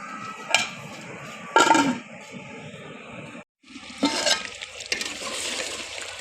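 Water is poured into a pot of degi-style mutton korma in a few splashing bursts, each followed by the liquid sloshing and stirring, heard close with brief quiet gaps.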